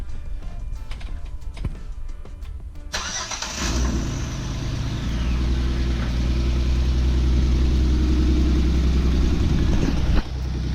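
A Jeep engine with a possible misfire cranks and catches, then settles into a steady, loud rumbling idle that runs without a break.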